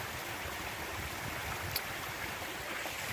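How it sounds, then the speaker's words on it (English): A mountain creek fed by an underground stream roars steadily, a dense, unbroken rush of water heard up close with no voices. "I knew there was an underground stream here, but to see it roaring like this"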